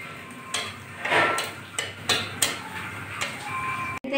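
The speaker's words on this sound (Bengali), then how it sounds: "এই জন্য কিছুটা কালো সর্ষে তেলের ভিতর দিয়ে দিচ্ছি, আর দুটো শুকনো লঙ্কা" Black mustard seeds and two dried red chillies crackle in a little hot oil for a chutney of raw green mango, giving scattered sharp pops and ticks over a steady soft sizzle, close and moderately loud, with no voices.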